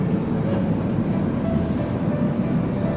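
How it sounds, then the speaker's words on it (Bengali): Train running through a hilly valley with rock cuttings on the way to Bombay, heard as a steady, loud rolling rumble of wheels and carriages throughout, with no talk. "তার মাঝখান দিয়ে ট্রেনটি চলেছে"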